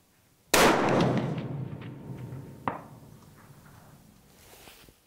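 Rifle shot at a steel target 550 yards away: one sharp, loud report with a long decaying rumble, followed about two seconds later by a fainter metallic clang from the distant steel.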